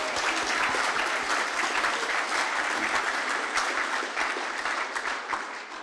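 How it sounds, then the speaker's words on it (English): Steady, dense applause from a crowd at a school prizegiving claps continuously and loudly throughout, tapering slightly near the end. "One more round of applause, please"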